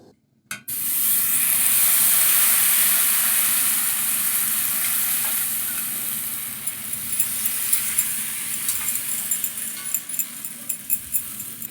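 Patishapta batter hits a hot griddle over medium flame with a sharp sizzle that gradually settles into a steady frying hiss, with faint scraping and clinks near the end.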